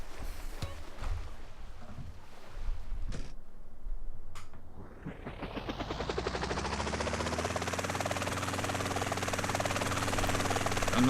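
In GTA San Andreas, a helicopter sits quiet among a few clanks and knocks, then its engine spools up and settles into a loud, steady rotor whine that builds to the end.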